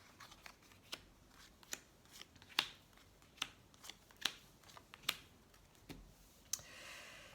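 Tarot cards are shuffled and laid out one by one in a quiet room, with soft riffling and a series of crisp slaps and snaps spaced about a second apart, and no talk over them.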